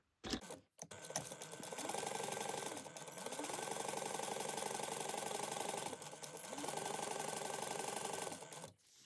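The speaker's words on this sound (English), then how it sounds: "we're going to sew across this top at a 3/8 inch seam allowance" A sewing machine runs almost without a break, sewing a 3/8 inch seam across the top of a laptop bag with a dense mechanical whir that dips briefly near the start and ends abruptly, heard close up.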